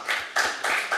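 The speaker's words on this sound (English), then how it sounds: "Let's clap for the prayer." At a city council meeting, a few people in the audience clap in three or four short, distinct bursts, close by and moderately loud.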